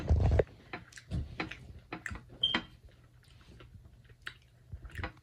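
Someone chews mashed potato close to the microphone, making soft wet squishing bites in an irregular rhythm with small pauses, quiet overall.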